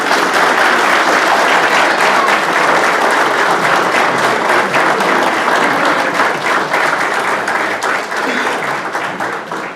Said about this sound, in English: Turn around and face your families and give them a round of applause.